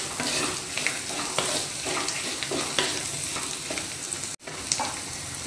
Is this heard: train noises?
no